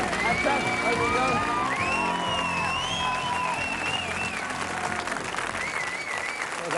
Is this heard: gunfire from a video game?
no